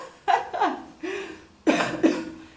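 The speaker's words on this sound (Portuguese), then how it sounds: "me deu até tosse agora" Several coughs come close to the microphone in two pairs, with a short pause between them, loud and throaty.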